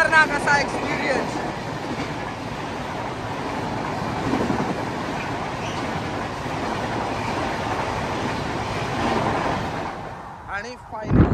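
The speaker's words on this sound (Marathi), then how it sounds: "आणि ट्रेन आलेली आहे, पहिलीच ट्रेन आहे." A Konkan Railway train bursts out of a tunnel with a strong rush of wind, a loud steady roar and wheel clatter sustained for several seconds before fading near the end.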